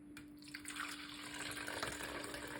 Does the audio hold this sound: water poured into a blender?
yes